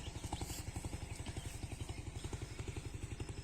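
A boat motor chugs steadily nearby with a fast, regular engine pulse and some clatter, set beside a tobacco field.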